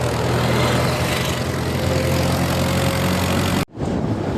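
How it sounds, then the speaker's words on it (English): A tractor engine drones loud and steady from up close during a ride, a broadband rumble with a low hum, then cuts out abruptly near the end before the noise returns. "This is a tractor we are coming in right now."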